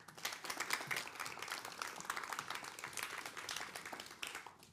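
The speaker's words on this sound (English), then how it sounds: "So a big round of applause for Matteo." Audience applause for a speaker at a festival talk session, a dense burst of many hands clapping steadily for several seconds before fading slightly at the end.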